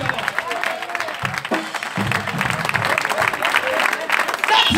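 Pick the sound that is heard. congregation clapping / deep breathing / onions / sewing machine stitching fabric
congregation clapping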